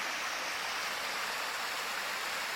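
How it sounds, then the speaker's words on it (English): Water rushes steadily through a beaver pond spillway, a constant close hiss of flowing stream with no pauses and no voices. "Water's flowing through the spillway today."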